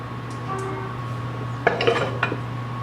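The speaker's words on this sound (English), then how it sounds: "now I'm going to take my peach cobbler out of the oven" A baking dish of homemade peach cobbler lifted from a home oven: a low steady hum, then a couple of close clattering knocks and clinks of the dish and metal near the end, no speech.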